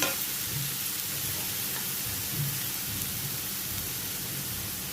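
Chopped onions fry in a pan for a Marathi fenugreek bhaji, giving a steady, dense sizzle, like light rain, that runs on alone without a break.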